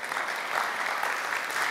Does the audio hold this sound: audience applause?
yes